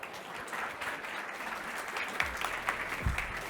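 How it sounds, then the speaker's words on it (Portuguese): Audience clapping as a fintech team is called to the stage at a banking technology pitch championship, a moderate steady round of applause from a hall crowd with a couple of low thumps near the end. "uma salva de palmas"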